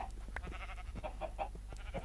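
Several cows moo in the Minecraft video game, low, overlapping calls at moderate volume with no talking over them.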